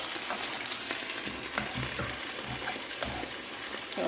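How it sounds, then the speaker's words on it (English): Pulled BBQ jackfruit simmers in a covered pot on the stove, giving a close, steady bubbling sizzle with soft crackles and no talking. "And it's simmering away."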